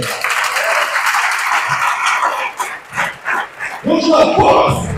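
A church congregation at a Sunday service applauding, a sustained wash of clapping that keeps going under a speaking voice and swells louder near the end.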